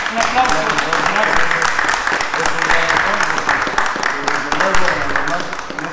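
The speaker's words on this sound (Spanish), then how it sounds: "Un aplauso." Enthusiastic applause from a crowd at a public gathering, dense clapping mixed with cheering voices and chatter, loud and steady with slight swells, running throughout.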